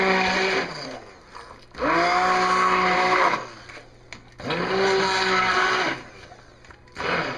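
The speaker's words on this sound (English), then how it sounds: "we're going to start blending this up with a stick blender" A stick blender whirs loudly in two long bursts with brief pauses between, its motor pitch steady and close, blending homemade laundry soap.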